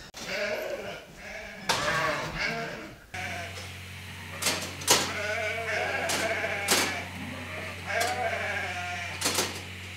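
Dairy sheep on a Gippsland cheese farm bleat repeatedly, several close, loud calls overlapping, with a steady low machine hum running underneath.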